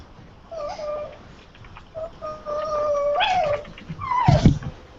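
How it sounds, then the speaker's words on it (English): Dog whimpers and whines in a series of high, wavering cries that rise and fall, ending in a louder yelping outburst, close by and heard alone without talk. "Where's the dog?"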